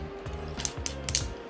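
A ratcheting joint on a 2001 Transformers Robots in Disguise Galvatron toy clicks through several quick plastic ratchet steps, crisp and close in a short burst.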